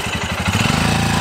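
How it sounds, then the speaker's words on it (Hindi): A Royal Enfield Scram 411 motorcycle labours up a rocky, stony track in first gear, its engine thumping in a steady low pulse that rises slightly in pace, loud and close, with no talking. "और देखो गाड़ी कैसे चढ़ा रहा है भाई"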